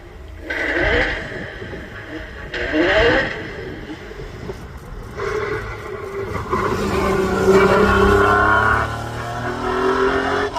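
Porsche race car climbing the Craigantlet hillclimb course, engine rising and falling through gear changes as it passes, swelling louder toward the end, heard from the roadside without any talk.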